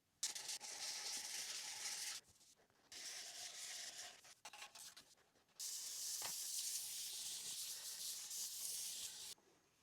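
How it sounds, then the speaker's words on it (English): Sandpaper rubs across a guitar's wooden body in long, steady scratchy strokes with short pauses between passes, close and fairly quiet. "all that's left to do is just a lot of sanding with finer and finer sandpaper"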